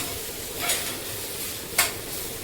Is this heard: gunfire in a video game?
no